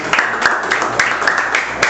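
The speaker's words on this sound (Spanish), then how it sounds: "Alberto, nuevamente un aplauso." Audience at a lecture presentation applauding, scattered and uneven claps with a few sharp individual hand slaps standing out over a thinner crowd patter, close and moderately loud.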